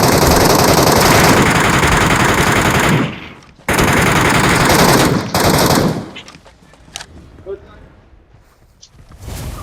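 Rapid automatic gunfire in a video game shootout, loud sustained bursts with a short gap, then sparse shots and footsteps as players talk.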